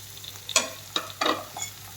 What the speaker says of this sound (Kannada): ಸೊ ಚೆನ್ನಾಗಿ ನಾನು ಫ್ರೈ ಮಾಡ್ಕೋತೀನಿ